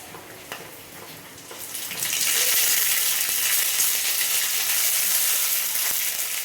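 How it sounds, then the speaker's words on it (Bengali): Ginger paste and whole spices hit hot oil in a dim kitchen, a soft crackle swelling after two seconds into a loud, continuous hiss that holds steady to the end. "এখানে দিয়ে দেবো আদা বাটা।"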